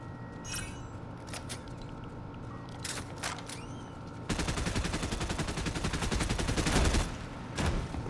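Video game gunfire: scattered shots over a busy background, then a dense, loud stretch of rapid automatic fire lasting several seconds before easing off.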